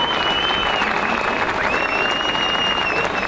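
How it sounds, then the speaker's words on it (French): Crowd at a Paris protest against the health pass at Place du Trocadéro applauding a doctor from the Vosges: loud, dense, continuous clapping filling the whole stretch, with a faint whistle-like tone running through it. "Applaudissez Gauthier Bailly"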